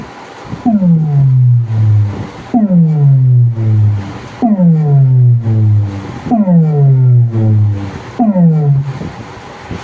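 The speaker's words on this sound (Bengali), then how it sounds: "ভাইরাল স্ট্রোক বিট হালকা করে শুনিয়ে দিচ্ছি" A loud, repeating beat cassette tape of a viral stroke rhythm plays back, each deep booming hit sliding downward in pitch, about five heavy pulses spaced evenly with short gaps, no voices heard.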